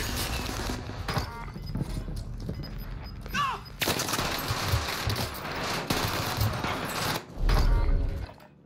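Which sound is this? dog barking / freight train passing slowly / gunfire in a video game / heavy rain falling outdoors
gunfire in a video game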